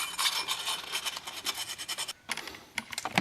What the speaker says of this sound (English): Just sandpaper a little bit.